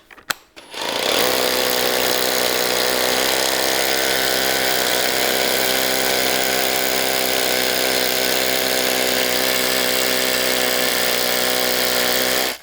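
A Ryobi ONE+ HP 1-inch SDS-Plus cordless rotary hammer bores into 5,000 PSI concrete, its loud, steady hammering rattle running nonstop for about twelve seconds after a short start.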